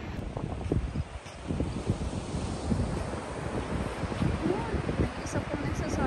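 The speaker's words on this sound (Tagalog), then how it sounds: "May hangin pa, presko, kahit mainit." Steady wind blowing across Omaezaki beach in Japan, a continuous broadband rush with gusty swells, blending with distant surf and buffeting the microphone throughout.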